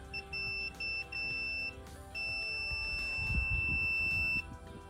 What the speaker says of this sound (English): Yeah, I can hear that beep.